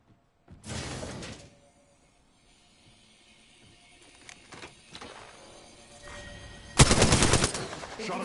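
Gunfire in Apex Legends aimed at a cargo bot: two loud bursts of rapid shots, one early and one near the end, with quieter clatter and game noise between them.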